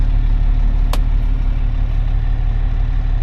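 A farm tractor engine idles at a steady, loud, low drone during a day of plowing, with one short sharp click early on and no voices.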